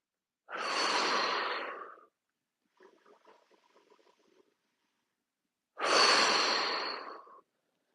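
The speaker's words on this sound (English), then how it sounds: "Take a few big breaths here." Two long, deep breaths taken in yoga fish pose, each a loud, close, airy exhale of about one and a half seconds, separated by a faint soft rustle and silence.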